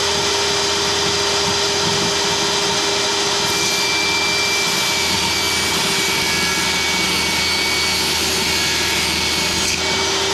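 A power tool runs steadily while cutting a wooden drawer bottom for a small jewelry box, giving a loud, constant whining drone for the full ten seconds with no pauses and no voices.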